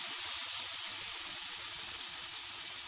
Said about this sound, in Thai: เราจะหยอดแป้งลงไปตรงกลางนะคะ